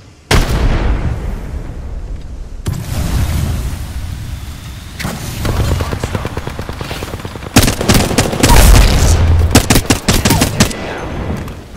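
A frag grenade explodes in the battle royale game Apex Legends amid sharp gunshots and rapid automatic fire, the action loud and close with a heavy blast and crackling bursts near the end.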